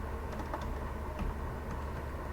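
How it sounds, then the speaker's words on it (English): Keys on a computer keyboard, including the tab key, being pressed in a few light, irregular clicks over a steady background hiss, faint and close. "I'm using my tab key to tab around the window."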